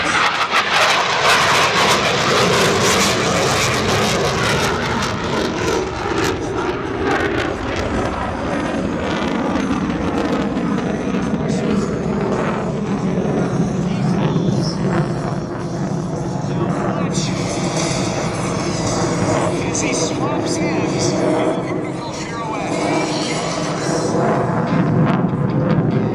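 An F-18 Super Hornet roars with full afterburner at the Miramar air show, a loud, sustained rumbling jet blast that swells and slowly shifts, with an announcer talking over it throughout.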